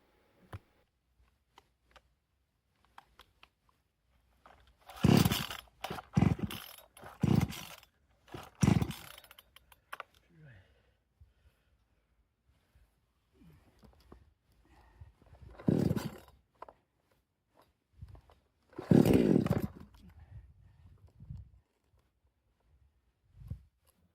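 A chainsaw revs in several loud bursts cutting wood, with quiet pauses between cuts and long stretches of near silence.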